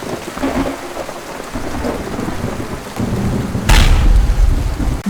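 Thunderstorm over a river in a cartoon, steady heavy rain on the surface with low rumbling thunder that swells into a loud, deep crack near the end.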